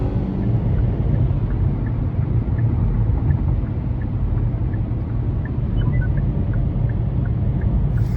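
Steady low engine rumble and road noise of a car driving, constant and close, with no talking.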